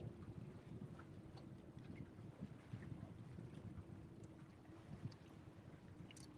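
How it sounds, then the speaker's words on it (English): Steady wind blowing outdoors at Sandusky Bay, a continuous low rumbling buffeting with faint water and distant ambient sounds, no voices. "the wind is keeping it just a little bit chilly"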